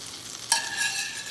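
A tablespoon of butter hits a hot pan and starts to sizzle suddenly midway through, the hiss holding steady afterward, close and clear with no speech.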